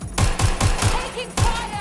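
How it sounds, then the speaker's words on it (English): Rapid gunfire in the video game Watch Dogs Legion, a close, loud burst of evenly spaced shots followed by a short pause and another shot. "Shots fired!"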